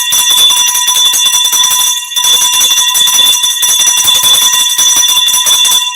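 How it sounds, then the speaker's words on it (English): A brand-new boxing ring bell rings loud and continuous with a harsh metallic electric buzz, briefly pausing once before resuming without letup. "Brand new bell, folks. We break it in this evening."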